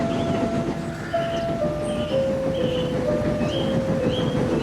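A heavy train careens down the line behind a tank engine, pushed by a heavy truck, making a steady, loud rolling rumble with sustained tonal whines throughout and no voices.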